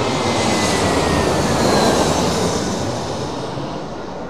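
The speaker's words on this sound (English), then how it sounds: "we're waiting around for the Etihad 380" Etihad Airbus A380 passing overhead on arrival at London Heathrow, a loud, close broadband jet roar that fades slightly as it moves away, with no talking.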